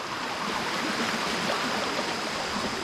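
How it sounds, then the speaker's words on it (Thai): Water rushes steadily and continuously, a close, full hiss of a flowing stream with no voices or pauses. "เสียงน้ำไหล นี่น้ำไหลทุกคนว้าว"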